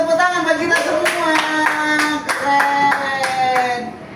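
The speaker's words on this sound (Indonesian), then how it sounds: "Oke, beri tepuk tangan bagi kita semua" A class claps together in a steady, rhythmic beat of about ten claps, while a sustained voice carries along underneath and stands out above the clapping.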